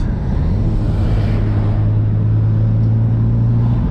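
A Nissan Skyline R33 GTR driving through Japanese city streets, its engine a loud, steady droning rumble heard from inside the car, holding a constant tone with no voices.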